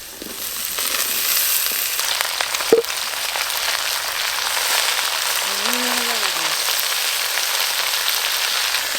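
Potatoes and cabbage fry in a pan with a steady hissing sizzle throughout, broken by a single sharp clack, while a faint voice briefly sounds beneath the sizzle.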